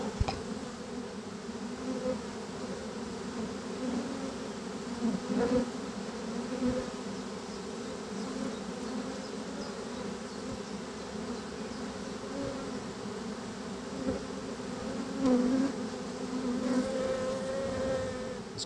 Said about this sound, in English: Quite a few bees are randomly on the woodwork here, and largely they will find their way in.